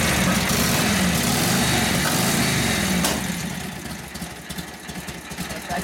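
A 1942 Harley-Davidson WLA 45 cubic inch flathead motorcycle engine, a loud close lumpy running beat that drops back to a softer, uneven idle partway through.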